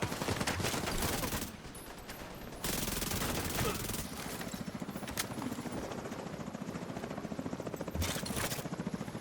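Sustained automatic gunfire rattles in the Division 2 video game, with dense rapid bursts that pause briefly and resume, loud and continuous across the stretch.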